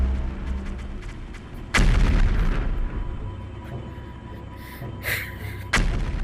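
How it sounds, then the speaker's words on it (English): Cannons being destroyed in a video game fight against a bird boss: two sharp, loud booming blasts several seconds apart, each followed by a rumbling decay over steady game background noise. "When you get it low, the cannons start like getting destroyed."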